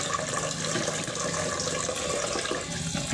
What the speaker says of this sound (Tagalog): Lagyan ko malamig na tubig yan.